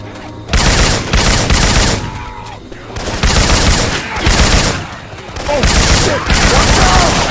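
Rapid automatic gunfire bursts from Syphon Filter weapon sounds modded into the zombie shooter Left 4 Dead 2, loud sustained volleys separated by short gaps, with faint voices underneath.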